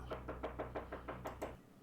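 A neighbor knocking on a door, nine quick rhythmic knocks in an even series, fairly close, with no talking.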